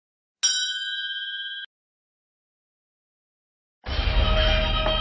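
A bright, sustained notification ding rings cleanly for about a second, then silence, followed by a denser burst of a different effect.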